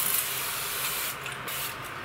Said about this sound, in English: Like the Evian water that you drink, this is what it is. It's just in a spray bottle.